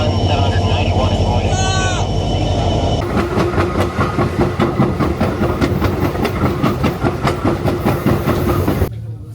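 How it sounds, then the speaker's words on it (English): Another train passing alongside the McKinley Explorer on the route toward Denali National Park, a steady loud rumble with rapid rhythmic clatter of wheels on rail joints, close by, following a brief squeal, with talk. "And here comes the other train."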